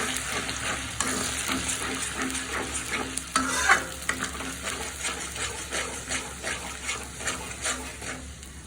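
Onion paste sautéed in oil for a chicken roast sizzles steadily with repeated stirring scrapes and soft spatula knocks, close and moderately loud with no talk.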